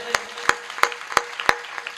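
Sparse, evenly spaced hand claps from an audience at a Hindi comic poetry gathering, applauding for mothers: about five sharp, steady claps with softer claps between them.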